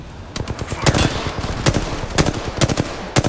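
Rapid gunfire from the Apex Legends video game, loud and up close, fired in quick bursts of repeated shots with short gaps between them and no talking.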